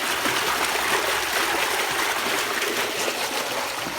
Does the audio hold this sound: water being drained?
yes